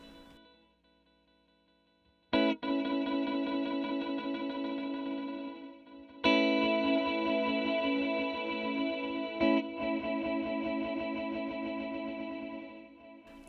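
An Eventide Ultratap delay pedal with its slurm control turned fully down gives a jagged, choppy stream of repeats from a few struck chords, with a dense, stuttering echo texture that carries on loudly with no talk.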